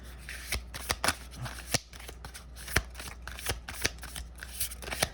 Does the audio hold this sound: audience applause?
no